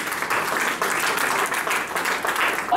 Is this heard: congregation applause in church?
yes